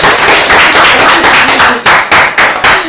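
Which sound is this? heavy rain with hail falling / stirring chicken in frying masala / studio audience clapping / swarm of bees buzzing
studio audience clapping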